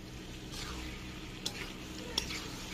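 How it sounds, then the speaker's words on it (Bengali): Boiled potatoes being stirred and fried in oil and spices in a pan for a potol chingri dish, soft scraping of a spatula over steady low sizzling, with a couple of sharp clinks of utensil on metal. "তো এক দুবার তো নাড়াচাড়া করে নিলাম"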